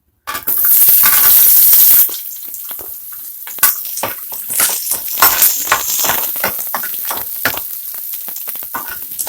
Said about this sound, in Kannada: ಸ್ವಲ್ಪ ಫ್ರೈ ಮಾಡ್ಕೊಳ್ಳಿ